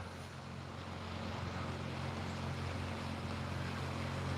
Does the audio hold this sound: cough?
no